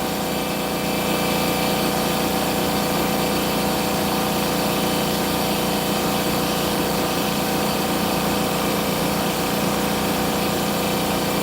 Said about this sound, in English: Sorry for that loud noise of the compressor